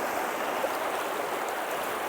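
A big, powerful river flows as a continuous broadband rush of water, steady and unbroken, at moderate loudness with no voices.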